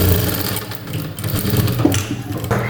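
A sewing machine runs steadily for a few seconds while stitching a baby cap, with a close, continuous motor whir and no talking.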